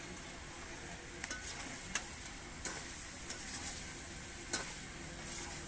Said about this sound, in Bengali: ভেজে রাখা আলুগুলো দিয়ে দিলাম।